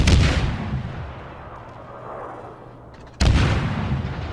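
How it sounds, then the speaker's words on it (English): Naval gunfire from a warship's main battery firing armor-piercing shells in World of Warships, a heavy boom at the start and another sharp blast near the end, with a rumbling decay between. "I'm firing AP at this Cleveland."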